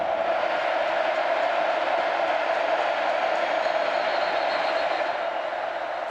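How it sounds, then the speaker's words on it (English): Loud college football stadium crowd during a 3rd and goal stand, Bowling Green against Texas A&M, a dense sustained roar of cheering that stays at full volume throughout. "This crowd getting loud, a 3rd and goal, trying to hold BG to 3."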